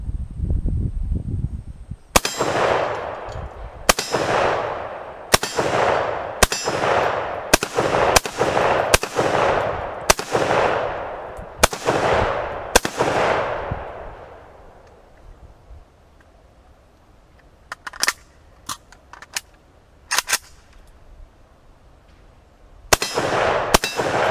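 Rifle shots with 7.62x39 full metal jacket rounds strike a gold-painted steel target at a range, each sharp crack followed by a ringing clang, about a dozen in a quick irregular series, then a pause and a few more hits.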